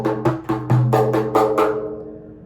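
Hand strikes on a frame drum play a quick rhythm of about eight evenly spaced beats that open with a deep resonant stroke and close with lighter rapid taps, played solo and close up.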